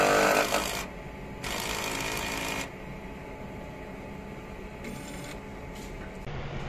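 Mechanical whirring and rattling from an eco solvent printer running its head cleaning cycle, with steady motor noise and a few louder bursts as the carriage and pumps work, heard close up with no talking.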